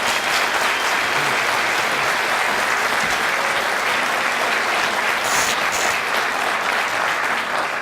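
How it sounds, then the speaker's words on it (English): An audience at a college convocation breaks into sustained applause, a dense, even wash of clapping that carries steadily for about eight seconds without pause. "Give her a round of applause."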